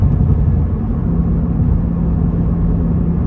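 A loud, steady low rumble from the exhaust of a 2022 Cadillac CT4-V Blackwing, deep and continuous throughout, with no voices.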